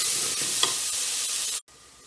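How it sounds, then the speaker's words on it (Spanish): Onion fries in a pan for coconut curry lentils, a continuous close sizzle with light stirring scrapes, ending in a brief cutoff. "que se fría todo muy muy bien"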